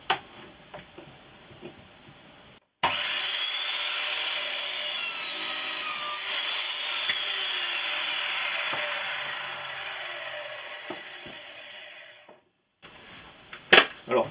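An Evolution R210CMS compound miter saw cuts through wood with steel embedded in it, a sustained loud whining grind of about ten seconds, framed by quieter clicks and handling noise before and after.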